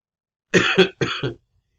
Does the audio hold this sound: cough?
yes